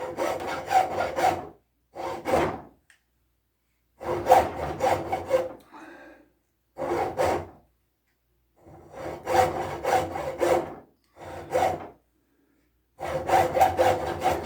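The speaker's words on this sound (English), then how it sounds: "if I use this jeweler saw, I can just go right down in there" A jeweler's saw cuts quickly through wood for a rocking chair, sounding as rapid rasping bursts of strokes separated by short pauses, close and fairly loud with no talk.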